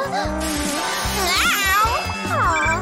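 A cartoon cat meows repeatedly in short rising and falling cries amid background music in a children's animated show about the solar system.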